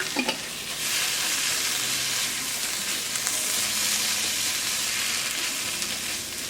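Tomato sauce sizzles steadily in a pan while chicken peralan is being cooked, a dense, continuous frying hiss that stays loud and even throughout, with a few stirring knocks near the start and no talking.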